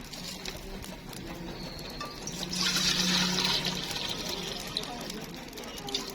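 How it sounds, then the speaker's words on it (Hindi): Water pours into a large cooking pot (degchi) set over an open fire for beef and potato curry, a rushing wash that builds in the middle and runs steadily, with faint background sounds. "इसमें मैं पानी डालूंगी।"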